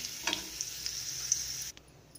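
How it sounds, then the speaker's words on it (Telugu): Raisins frying in a pan for carrot laddu, making a soft, high, steady sizzle with a light stir scrape early on before the sound cuts off abruptly near the end. "చూసారా కిస్మిస్ చక్కగా మనకి ఫ్రై అయిపోయినాయి కదా"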